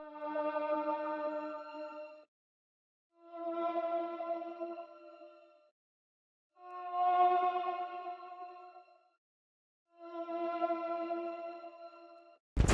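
A music sample processed with flanger, chorus, retro color and tremolo effects plays as four sustained, swirling chordal phrases separated by short silences, followed by a sharp click at the end.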